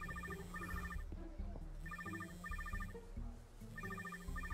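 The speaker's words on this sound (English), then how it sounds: "This is a cutscene and I'm still hearing this goddamn phone ring." Ben 10 video game phone rings in repeated trilled bursts during a cutscene, three clear ring groups spaced about every two seconds over a busy game soundtrack.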